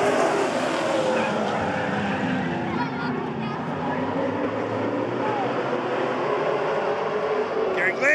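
Modified race cars roar past in a trophy dash at All American Speedway, a loud, dense engine blare that swells and fades as they pass, with faint crowd or announcer voices mixed in.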